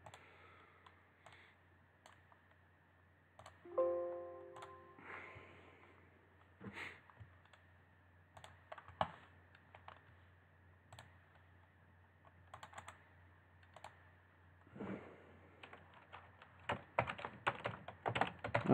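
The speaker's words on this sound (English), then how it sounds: "I'm just typing a quick note here for myself." Sparse, quiet keystrokes on a computer keyboard tap out in short irregular bursts with pauses, over a faint steady hum in a quiet room.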